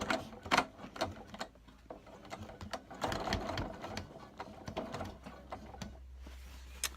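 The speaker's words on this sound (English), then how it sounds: "just machine stitch from one corner to the next." A sewing machine stitches diagonally between the corners of a shopper bag handle, giving soft, close mechanical whirring with irregular clicks and short bursts, starting and stopping.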